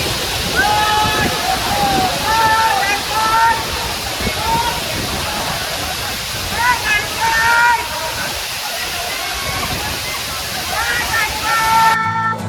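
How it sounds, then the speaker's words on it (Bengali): Subalong waterfall tumbling down a hillside at Kaptai Lake, Rangamati, a loud continuous rushing roar of falling water close by, with voices talking over it at intervals. "এখানে পাহাড়ের বুক চিরে উন্মুক্ত হয়ে ওঠে সুবলং ঝর্ণা"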